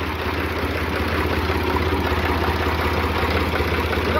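A 1990 HMT 3511 antique tractor engine idles steadily, a loud, continuous low rumble with an even throb and no speech over it.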